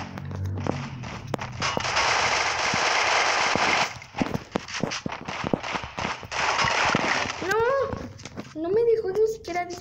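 Rapid automatic gunfire in the mobile game Free Fire, a dense, sustained burst of shots for several seconds followed by scattered single shots, heard close over game effects with a person talking at times.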